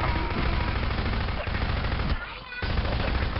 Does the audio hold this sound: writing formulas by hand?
no